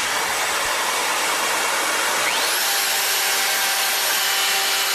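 Handheld router cutting a mortise in wood freehand, a loud continuous high-pitched whine throughout, with the motor pitch sweeping upward midway and then holding steady.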